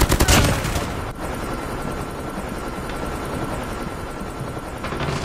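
Steady mechanical drone of a Call of Duty killer drone, helicopter-like and continuous throughout, mixed with bursts of distant game gunfire, a loud rush at the start, no voices.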